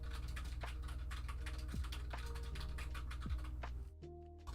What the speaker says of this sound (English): Painting wife is behind me furiously typing,